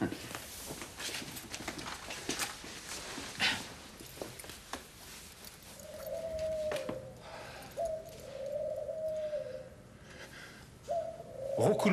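Pigeons coo on the Champ de Mars in Paris, soft repeated throaty calls that begin halfway through and sit over scuffs, taps and rustling nearby, with faint murmurs of people in the background.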